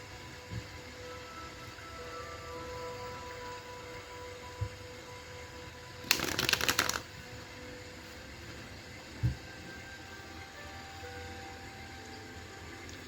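A deck of tarot cards is shuffled in one brief, crisp riffle of rapid clicking lasting about a second, with faint knocks before and after against a quiet room hiss.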